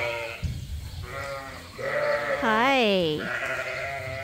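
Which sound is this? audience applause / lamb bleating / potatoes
lamb bleating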